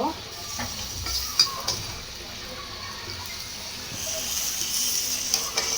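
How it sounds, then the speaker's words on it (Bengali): Pieces of beef lung are stirred in a frying pan under a low, steady sizzle, with a few scattered scrapes and clinks from the spoon, heard up close. "আমি এগুলাকে হচ্ছে একটু নাড়াচাড়া করে দিব"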